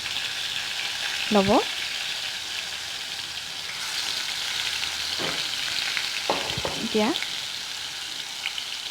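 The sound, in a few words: fish frying in hot oil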